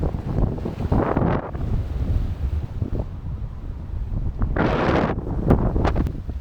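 Wind roars and buffets across the microphone aboard a sailboat on open water, a steady, loud rush with gusty surges and a brighter burst near the end, no voices.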